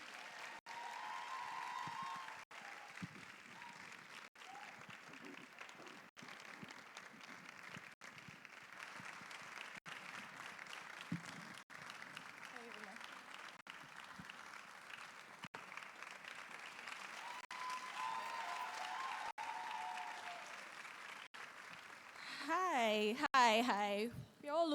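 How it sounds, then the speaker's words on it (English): An audience at a one-day creative and professional event applauds to welcome the first speaker, a long, fairly distant and even spell of clapping, with a voice rising near the end. "So please, a round of applause as we make welcome our first speaker for today, Miss Edwina."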